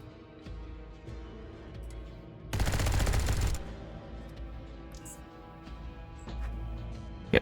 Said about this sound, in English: Zone rats are gonna hear all the gunfire